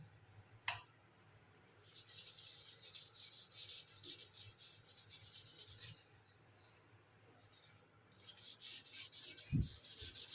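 A brush scrubs salt stains in a stainless kitchen sink in quiet bursts of rapid back-and-forth rubbing, a soft close scratching that pauses once midway, with a couple of faint knocks.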